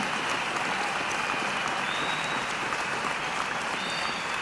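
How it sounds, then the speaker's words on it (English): A large audience at a university graduation ceremony applauds, a continuous wash of distant clapping that holds steady and even throughout, with a faint whistle rising above it. "I'm certain that another round of applause is not just generous,"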